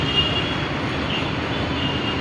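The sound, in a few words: Mumbai Aqua Line underground metro train running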